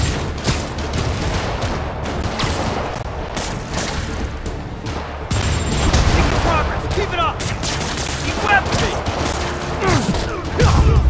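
Rockets and gunfire in a Spider-Man Remastered game fight, with repeated loud blasts and bursts up close, mixed with overlapping voices and busy action noise.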